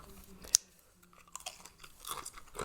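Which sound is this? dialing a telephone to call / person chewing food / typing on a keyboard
person chewing food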